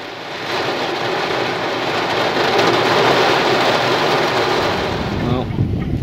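Heavy rain pours down in a dense, loud, continuous hiss that swells and holds steady, with a low rumble underneath suggesting distant thunder or a vehicle.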